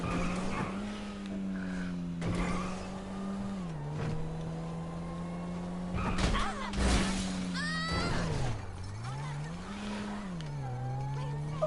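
A car in GTA 5 Online drives hard, its engine droning and shifting pitch as it speeds up and slows, broken by several tire skids and a couple of thumping impacts.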